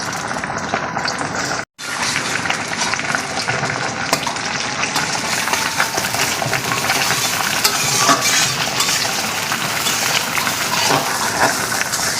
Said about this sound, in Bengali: সাদা তেল দিয়ে মাংসটা দিয়ে দিই।